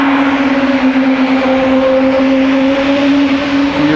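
A KLM Embraer E2 jet at Amsterdam Schiphol Airport produces a loud, steady engine drone with a sustained tonal whine, continuous and close throughout, no voices.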